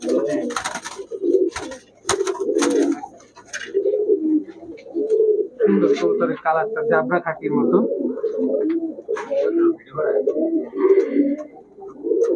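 Racing pigeons banded by a Narayanganj pigeon club in 2022 coo in repeated low, throaty phrases close by, alongside someone talking.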